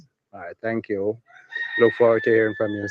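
A rooster crows in a long drawn-out call, heard close beside a voice that speaks a few short phrases just before it.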